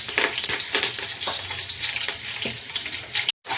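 Curry leaves sizzle in hot oil for goat mutton curry, a loud steady frying hiss with crackling spikes throughout, breaking off briefly near the end.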